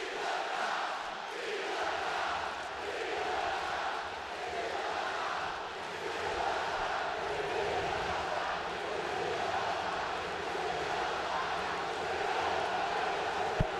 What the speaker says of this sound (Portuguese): O Olímpico inteiro vaiando o ex-ídolo Ronaldinho